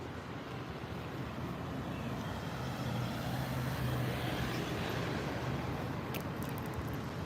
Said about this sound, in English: And I guess a tow truck.